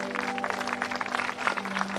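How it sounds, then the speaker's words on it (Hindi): Audience applause for a singer at a live singing event, steady clapping from a crowd with a sustained musical tone held beneath it, moderately loud and continuous. "एक बार उनके लिए जोरदार तालियां बजाएं।"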